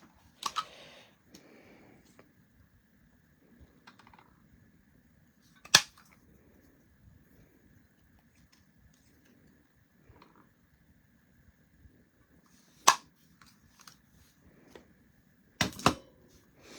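A few sharp, isolated clicks of a tailor-type hand punch biting through card stock, spaced apart against quiet room tone with faint rustling between them.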